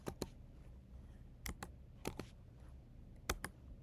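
Quiet computer keyboard keys are tapped in a few sparse pairs of clicks while entering a number into a program, with a low hum between the presses.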